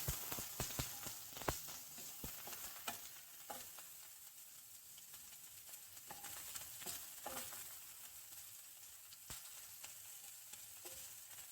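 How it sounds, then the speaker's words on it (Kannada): Onions fry in oil with a soft, steady sizzle, punctuated by irregular scraping and tapping from a spatula stirring the pan. "ಇವಾಗ ಈರುಳ್ಳಿ ಎಲ್ಲ ಚೆನ್ನಾಗಿ ಫ್ರೈ ಆಗಿದೆ"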